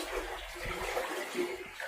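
Floodwater rushing like a river in front of a house, a steady broadband wash of flowing water at moderate distance, continuous with slight surges and no speech.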